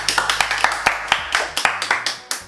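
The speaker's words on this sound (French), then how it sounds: "Applaudissements." Clapping at a live podcast recording, close and sharp, from a small group of hands in an uneven, quick rhythm, with some voices faintly underneath.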